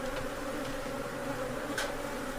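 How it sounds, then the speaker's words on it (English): Steady, close buzzing of a swarm of native bees during a bee removal job, a continuous insect drone with no talking. "let's save America's native bees"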